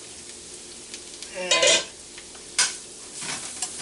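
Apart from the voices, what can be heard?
carrots stir frying, sizzling in pan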